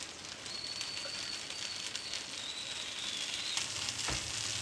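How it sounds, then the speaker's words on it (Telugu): A jowar dosa sizzles on a griddle with a spoonful of oil poured over it. A steady, soft frying hiss runs throughout, with a faint chirp and one brief click near the end, and no one speaks. "పెనం పైన దోశలు వేసుకోవాలి దోశ వేసుకున్న తర్వాత పైన కొద్దిగా ఆయిల్ వేసుకోవాలి ఒక స్పూన్"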